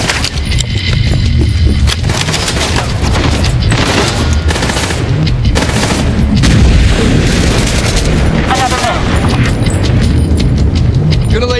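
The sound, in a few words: grenade explosion in Division 2 video game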